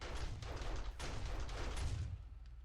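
Perimeter turrets in the zombie survival game 7 Days to Die fire at zombies, a steady distant barrage of low, rumbling gunfire with several stronger bursts, continuous for the full stretch.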